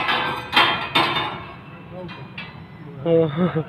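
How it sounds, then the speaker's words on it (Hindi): An iron hammer hung at a science center strikes metal rods, giving several sharp metallic clanks followed by ringing tones that hang and fade, with faint background voices. "एक लोहे का हथौड़ा टंगा हुआ है, इन रॉड पर मारना है तो उसमें धुन निकलेगी"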